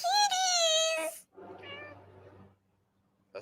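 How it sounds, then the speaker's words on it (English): Cats at the Hermitage museum meowing: one long, loud, clear meow close by, then a second quieter, lower meow after a brief gap, ending with a faint click. "kitties"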